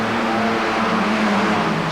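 Hot rod engine roaring through a pulling run at the Houston Astrodome in 1991, a loud, sustained, steady drone close by with no break.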